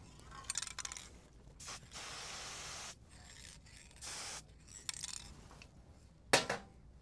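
A spray can hisses in several short bursts over a finished charcoal drawing, each spray a few seconds long with quiet gaps and faint rustling between, ending in a sharp louder puff.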